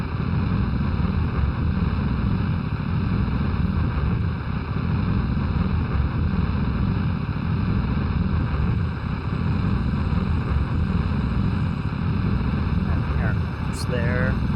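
Rocket engines burn in the space-flight game Kerbal Space Program, making a loud, steady, continuous roar that holds unbroken through the whole stretch, with a brief whistling tone near the end.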